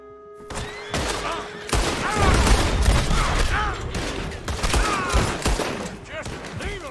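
Gunfire crackles in Red Dead Redemption 2 as a coach approaches, with rapid overlapping rifle and pistol shots, loud and close, mixed with shouting voices and chaotic action noise.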